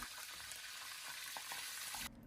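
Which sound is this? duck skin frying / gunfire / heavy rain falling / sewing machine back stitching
duck skin frying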